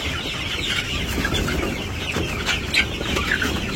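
Chickens cluck busily inside a village coop while being given water in the morning, a steady chorus of overlapping clucks and soft squawks with some scattered sharper calls.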